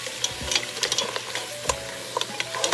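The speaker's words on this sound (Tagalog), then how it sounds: "Then mix lang po natin siya." A spatula scrapes and clicks against a hot pan as a sizzling mixture with fish sauce and black pepper is stirred, giving irregular close taps over a steady low fry.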